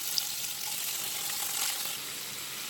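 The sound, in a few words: paneer frying and sizzling in a pan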